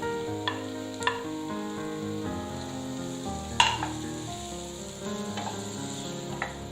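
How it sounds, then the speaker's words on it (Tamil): Chopped onions sautéing in a pan with spring onion for a vegetable soup, a steady close sizzle with a few scraping stirs of a spoon against the pan. "அடுத்தது நம்ம சாப் பண்ணி எடுத்த வெங்காயத்தையும் சேர்த்துக்கலாம்."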